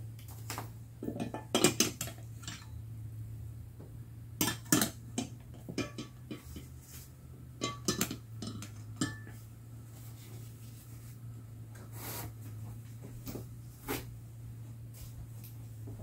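Beeswax for a homemade comfrey salve is dropped into a metal pot, giving a series of scattered light clinks and taps against the metal over a steady low hum.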